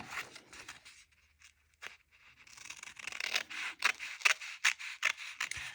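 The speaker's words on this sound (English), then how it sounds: "we just fold it in half this way and cut it" Scissors cut through folded printed paper for a doodle journal, a few soft snips at first, then a quiet pause, then a closer run of rhythmic crisp cutting strokes and paper rustles.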